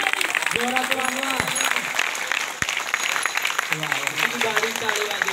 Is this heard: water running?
no